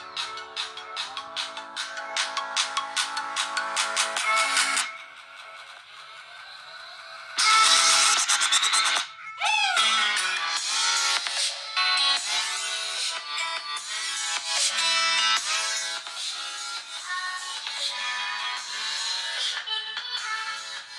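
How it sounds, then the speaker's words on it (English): Music plays through the rear loudspeaker of an Oukitel Y1000 budget phone, thin and tinny with almost no bass, continuing for about twenty seconds with a few brief dips and gaps. "the sound is quite tinny. It does lack that bit of bass and warmth in this loudspeaker"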